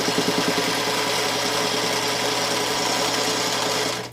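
A sewing machine stitches pieces of a sunrise quilt block onto foundation paper, running steadily in a close, loud, continuous whir that stops abruptly at the end.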